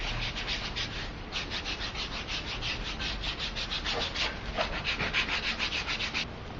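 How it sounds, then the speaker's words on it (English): Steady, rhythmic back-and-forth strokes of an 80 grit sanding stick on edges, close up, many quick rasping passes in a row with no one speaking. "and start sanding the edges."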